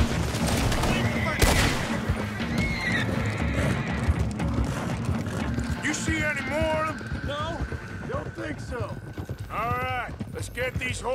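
Horses in the Red Dead Redemption 2 video game whinny repeatedly over galloping hoofbeats, with bursts of gunfire and voices talking throughout.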